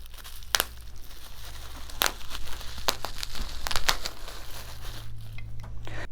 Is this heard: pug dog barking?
no